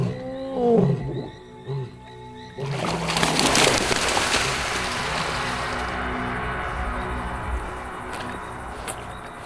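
Lions roaring in the wild, loud deep roars with breathy grunts early on, then a sustained rumbling roar and noisy wash of sound that continues to the end.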